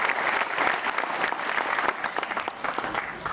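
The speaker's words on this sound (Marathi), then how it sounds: "एकदा जोरदार टाळ्या झाल्या पाहिजे" Loud, sustained applause from a crowd at an outdoor Shiv Jayanti celebration in Bilashi, dense clapping running steadily throughout without speech.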